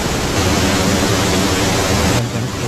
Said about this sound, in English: So it's going to be pink noise.